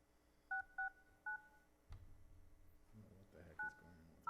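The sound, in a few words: telephone dialing tones on conference call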